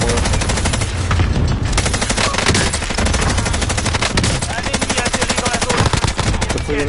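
Rapid gunfire from a Modern Warfare multiplayer match, loud, dense automatic bursts and shots running continuously over game background sound.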